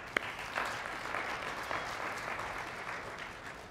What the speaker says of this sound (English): so if we can give her a round of applause, I appreciate it.